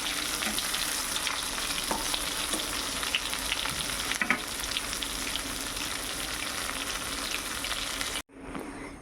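Pointed gourd (potol) frying in a pan, a dense continuous sizzle with occasional clicks of stirring, close and even, cutting off abruptly near the end, with no voices.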